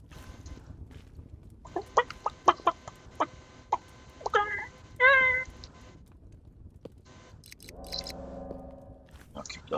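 Small bird clucking in the Creativerse video game, a run of short chirps and clucks followed by a longer warbling call, then a softer buzzing tone, fairly close over a quiet game background.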